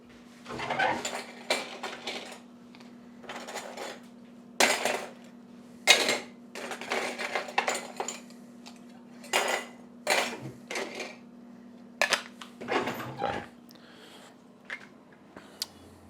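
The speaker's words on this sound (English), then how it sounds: "we're going to cap it. And I'm using this plastic lid with a little lid liner in here" A plastic lid with a liner being fitted and screwed onto a glass jar of fire cider: a series of sharp clicks, taps and clinks at close range, coming in irregular bursts over a steady low hum.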